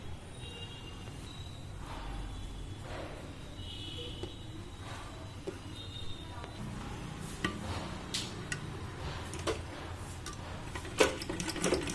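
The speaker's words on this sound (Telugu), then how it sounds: "ఇట్లా లైనింగ్ని రివర్స్ చేసిన తర్వాత పైనుంచి ఒక టాప్ స్టిచ్ వేయాలి నీట్గా" A sewing machine top-stitches the reversed lining of an umbrella frock, a steady near whirr of the needle with light ticking that grows slightly busier toward the end.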